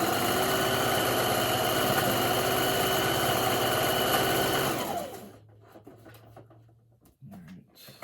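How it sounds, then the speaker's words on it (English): Sewing machine stitching a fabric seam on a mask hood, a steady loud whirring run for about five seconds that winds down and stops, followed by quieter handling noises. "So I'm just going to sew all the way through, and then back stitch."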